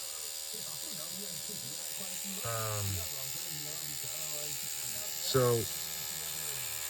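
A steady, low electric buzzing from a small motorized cartridge tattoo machine runs throughout, with someone speaking briefly over it.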